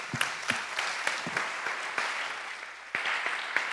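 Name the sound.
audience applause for the previous panelists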